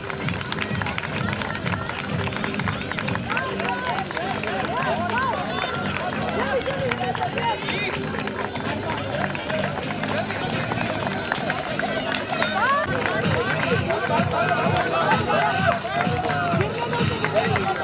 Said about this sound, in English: Keep cheering up, keep cheering up.